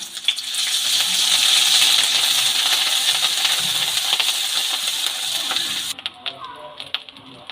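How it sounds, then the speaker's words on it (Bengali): Grated ginger sizzles steadily in lightly heated rice bran oil, a loud, bright frying hiss that holds for several seconds before cutting off, followed by faint clinks. "এবার যে আদাটা গ্রেট করে রেখেছিলাম সেটা তেলের মধ্যে দিয়ে দিলাম"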